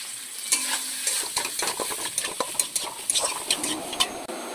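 Soybean chunks fry in oil in a pan just emptied of fried potatoes, a busy close sizzle with scraping and stirring clatters scattered throughout, steady and moderately loud.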